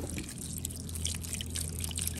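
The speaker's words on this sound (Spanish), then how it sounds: "Ahora sí la vamos a lavar." Water runs and drips over cauliflower florets as they are washed, a steady close trickle with small splashes and no talk.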